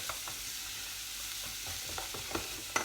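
Carrots cooking in a pan for soup give off a soft, even sizzle. A few light stirring clicks stand out near the end, all fairly quiet and with no voices.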